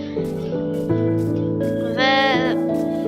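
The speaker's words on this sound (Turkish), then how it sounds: "buralarda bir yerlerde koyun çıkacağını inanıyorum" Repeated bleating sheep calls in a video game with a synthetic tone, one long wavering bleat standing out near the end, set over steady background music.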